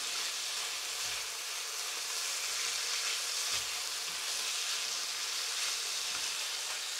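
Garlic frying in a pan, a constant close sizzle that stays even throughout with faint stirring underneath and no voices.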